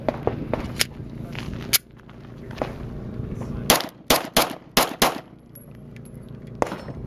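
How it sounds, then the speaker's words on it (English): A SAR Arms ST9 striker-fired 9mm pistol fires at the SHOT Show: several loud, sharp cracks, first a few spaced shots and then a quick string of four, with a busy hall murmuring in the background. "Let me fire a few rounds and show you how great this thing works."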